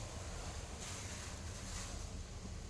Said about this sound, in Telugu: ఇదిగోండి అటుకులు వేసేసుకొని కొంచెం ఫ్రై చేయాలి